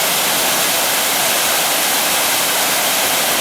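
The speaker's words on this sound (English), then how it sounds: "I always found this waterfall really pretty." A waterfall near the Arapaho Pass trail in the mountains above Nederland, heard close and loud as a dense, unbroken hiss of rushing water with no voices.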